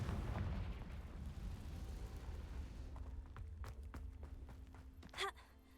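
A Confringo fire spell in Hogwarts Legacy goes off as a deep rumbling blast that fades out, followed by a few sharp, faint magical pops and a brief whoosh near the end.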